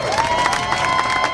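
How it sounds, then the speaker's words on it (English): Crowd at a protest rally outside New York City Hall applauding and cheering, a short dense burst of clapping with raised voices, fairly close and loud. "Give them a round of applause,"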